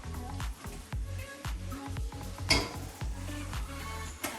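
A spatula working French toast in a frying pan, producing a regular series of low scraping knocks about every half second, with a brighter metallic clatter partway through, close and moderately loud; no voices.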